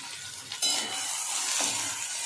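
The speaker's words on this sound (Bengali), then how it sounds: "এবারে সবজিগুলোকে 2 থেকে 3 মিনিট মতো একটু ভেজে নেব।" Vegetables stir-frying for veg hakka noodles, a steady close sizzle with a sharp stir or toss near the start and a softer scrape later, no voices.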